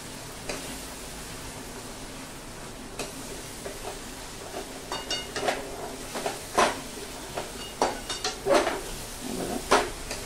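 Okra being stirred into masala in a pan while cooking restaurant-style masala bhendi, with soft sizzling under a series of scraping and clinking stirs that grow busier toward the end.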